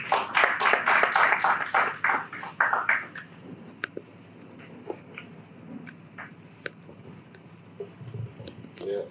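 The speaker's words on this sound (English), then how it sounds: "Please let's give him a big round of applause." An audience at an economic outlook event applauds a welcome address with a burst of brisk, close clapping that fades after a few seconds into scattered claps and quiet room noise.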